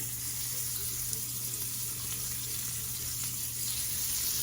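A hot cast iron grill skillet sizzling before shrimp go on, a steady, even hiss held close and fairly loud throughout, with a low hum underneath and no talking.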